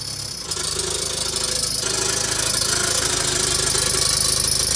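A VW T4 van with a newly redone exhaust runs with a loud, steady mechanical rattle over the engine's low idle drone, close and continuous.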